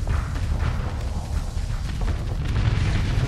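Heavy booming torpedo explosions from the space combat game Starsector, a dense continuous rumble of low blasts rolling on without pause, loud and close.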